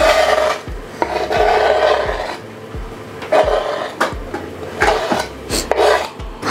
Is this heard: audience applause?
no